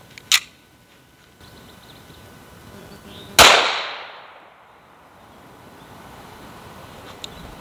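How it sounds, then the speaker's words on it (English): A single sharp Smith & Wesson M&P 5.7 pistol shot fired outdoors at a target, loud and close, with a decaying echo afterward, a faint click before it and quiet ambience around. "let's go ahead and take our first shot just to get our initial reaction"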